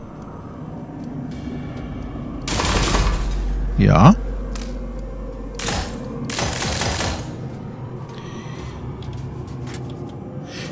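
Gunfire in the looter-shooter Tiny Tina's Wonderlands, likely a shotgun or sniper rifle: a few loud, broad blasts, one followed by a ringing whine, over steady game ambience and under brief speech.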